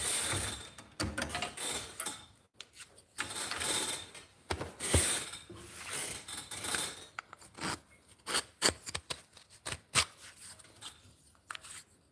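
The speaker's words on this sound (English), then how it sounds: "On my creaky chair." Close, repeated creaks and scraping squeaks of a wooden chair shifting under weight, with irregular clicks and rasps throughout.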